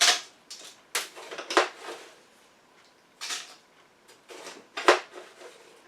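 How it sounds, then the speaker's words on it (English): A large spoon scrapes and knocks against a container while scooping out crushed ice bits for snow cones, coming in several separate clattering bursts with quiet pauses between them. "I suggest doing this with a very large spoon to get all the little ice bits out."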